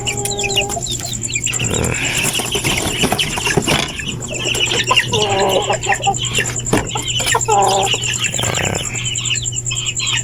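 One-month-old chicks cheep and peep in repeated bursts close by, alongside deeper clucking from adult fowl and a steady background hum.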